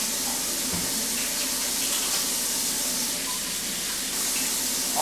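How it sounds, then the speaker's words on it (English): Water runs steadily from a kitchen tap while hands are washed before handling raw meat, a constant close hiss of flow that fills the clip with no talking. "we're going to wash our hands because we're going to handle the meat"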